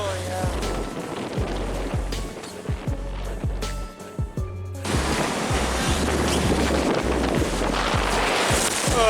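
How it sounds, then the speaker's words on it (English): Wind and waves at sea aboard a sailboat, steady rushing water and gusting wind against the microphone, with a low repeating thump early on before the wash grows louder and denser. "the winds have just started to push. But soon, Mother will organize the waves and they will only get steeper and closer together"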